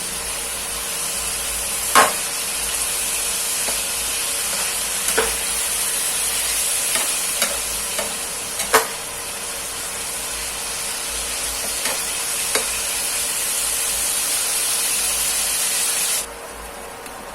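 Beans are stir-fried in a pan for a chicken basil stir-fry. A loud, steady sizzle runs throughout, with a few scraping strokes of the spatula, and it cuts off abruptly near the end.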